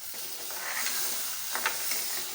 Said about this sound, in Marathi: अगदी किंचित फ्राय करायचे आणि अगदी कमी गॅसवर करायचे